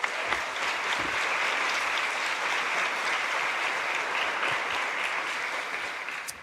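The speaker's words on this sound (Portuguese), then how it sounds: "Vamos aplaudir o Senhor Jesus." A church congregation applauds during a Portuguese-language sermon, a steady, full wash of many hands clapping together that holds for several seconds and eases off slightly at the end, with no talk over it.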